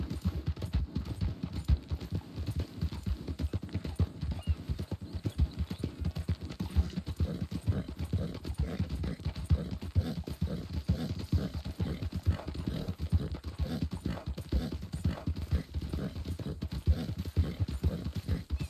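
Video game horse hooves in RedM clip-clop in a steady, rapid rhythm for the whole stretch, close and even, with no talking.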